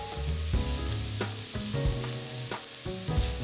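Brown rice and prawns stir-fried in a pan, a steady loud sizzle with repeated scraping and tossing strokes of a spatula, no talk.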